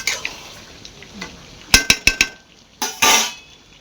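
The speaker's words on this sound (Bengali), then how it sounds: "চিকেন কষা হচ্ছে, ঝাল ঝাল করে চিকেন কষা।" Spicy chicken kosha stir-fried in a pan at home, with a spatula scraping and clanking against the metal in a run of sharp knocks over a low sizzle, then a louder scrape near the end.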